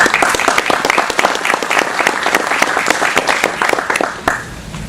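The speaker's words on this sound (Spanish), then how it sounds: "Aplausos para él." Warm audience applause for an author at a book presentation, dense continuous clapping close and loud for several seconds before thinning out at the end.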